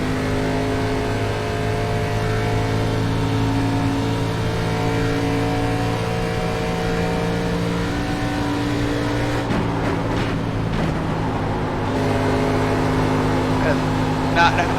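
A race car engine in the iRacing sim holds a loud, steady drone while picking up speed, with a brief gear-shift lull and renewed acceleration partway through.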